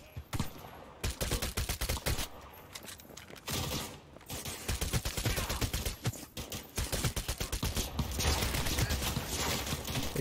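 Gunfire in the video game Cyberpunk 2077, rapid bursts of automatic shots in quick clusters with short pauses, fairly quiet overall and steady to the end.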